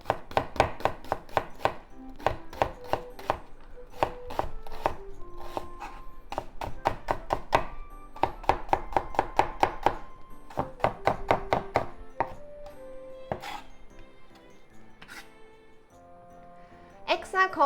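Knife slicing through food on a cutting board while bell peppers are prepared, with a series of sharp, close chopping thunks in quick bursts and a few slower single cuts, separated by brief pauses.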